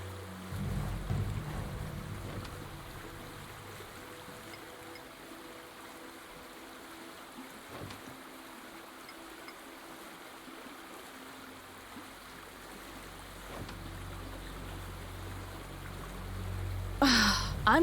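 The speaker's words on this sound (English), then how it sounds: "Acid water washes around the rocks" Acidic water washing around rocks, a soft continuous rushing and lapping with low rumbling swells at the start and end, faint and steady with no voices.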